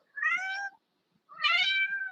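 A cat meows twice at close range near cat food, each call a clear drawn-out cry of about half a second, separated by a short silence.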